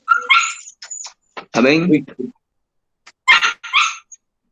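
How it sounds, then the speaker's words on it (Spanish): Dogs barking and yipping outdoors in several short, sharp bursts separated by pauses, with a brief spoken word among them. "están sonando los perros ahí"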